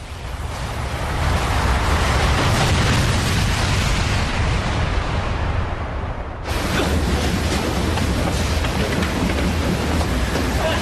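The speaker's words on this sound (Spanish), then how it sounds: "Me ha parecido una explosión." A dramatized Chernobyl reactor explosion: a loud, sustained, thunder-like rumbling roar that swells, breaks off abruptly, then resumes with a harsh, crackling blast.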